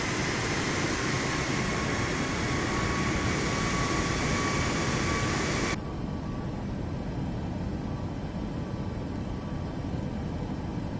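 Steady broadband roar of an airliner's engines and airflow in Microsoft Flight Simulator as flaps deploy on approach, continuous and loud throughout, the tone dropping slightly and dulling partway through.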